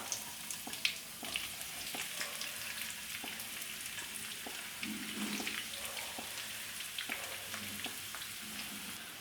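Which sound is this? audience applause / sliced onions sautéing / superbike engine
sliced onions sautéing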